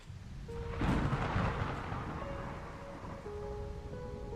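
A rumbling thunder-and-lightning effect from a video game, a broad crack swelling early then a sustained low roll with tonal musical notes entering underneath, fairly loud and without talk.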